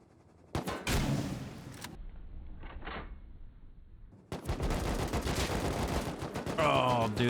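A rocket launcher fired at a minicopter in the survival game Rust, with a loud burst and roar, a faint whoosh, then a long sustained blast of noise, heard alone with no talk.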